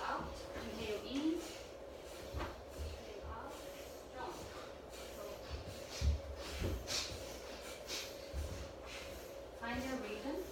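A yoga therapy group breathes in and out together, soft airy inhales and exhales repeating at a slow rhythm under a quiet instructor's voice and low room hum.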